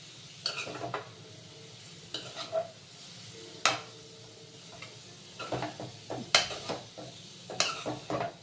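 Carrots fry in ghee as a spoon stirs them, giving a steady soft sizzle under scattered scrapes and light clinks of the utensil against the pan. Faint and close, with no voices.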